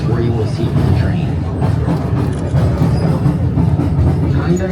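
The Skagway tourist train rolling along its rails, a steady close clatter of wheels and carriage rumble throughout, with a narrator talking over it.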